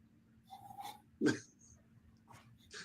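A dog makes a few soft, short vocal sounds, quiet whines and a huffing breath, close by in an otherwise quiet room.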